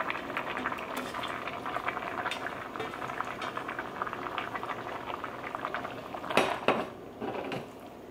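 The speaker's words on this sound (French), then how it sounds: "Et là, je peux rajouter ma sauce." Sauce going into a pan of simmering spaghetti for a Lebanese-style dish: a steady low bubbling and sizzling churns throughout, with a brief louder clatter of a utensil near the end.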